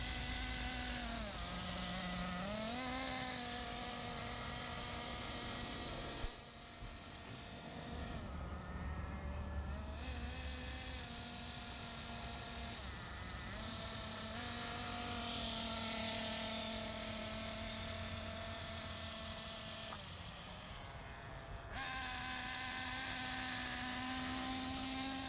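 A Kyosho Inferno NEO ST 3.0 nitro RC car engine is being broken in at low throttle. It gives a sustained buzzing whine that rises and falls in pitch over repeated short runs, with brief dips between passes, and nobody speaks.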